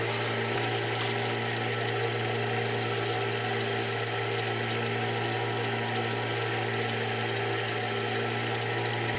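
A wood lathe spinning at reduced speed while finishing a bottle stopper, giving a steady, continuous motor hum with a faint mechanical whir, unchanging throughout and without speech.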